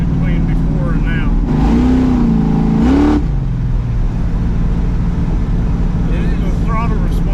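A 1968 Camaro fitted with Holley EFI Sniper fuel injection accelerates on the road. A steady engine drone swells into a rising rev for a couple of seconds, then falls back to a loud, constant cruising rumble heard from inside the car.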